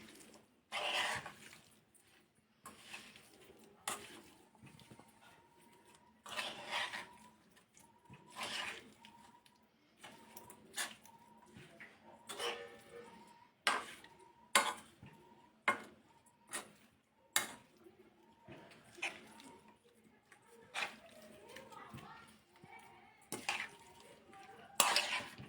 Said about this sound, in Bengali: আমি এতে দিয়ে দিচ্ছি খুব সামান্য পরিমাণ জল। পুরো মিশ্রণটা এবার খুব হালকা হাতে মিশিয়ে নেব।